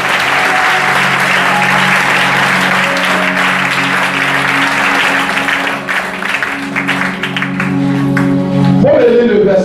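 Church congregation applauding and cheering during a French-language sermon: loud, dense, sustained clapping with voices acclaiming beneath, steady throughout and swelling slightly at the end.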